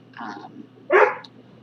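A pet dog gives two short barks indoors, the second louder and fuller, close to the microphone with a low steady hum beneath.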